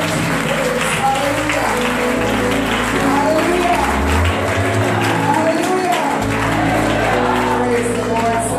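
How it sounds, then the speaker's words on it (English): A worship congregation claps their hands for the Lord at a church service, steady crowd clapping blended with voices and music, sustained and fairly loud throughout. "why don't you just clap your hands for the Lord?"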